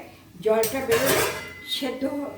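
A lid is set onto a cooking pot of tomatoes, salt and turmeric for vegetable pulao, giving a couple of close metallic clanks and clatters with a brief ringing tail.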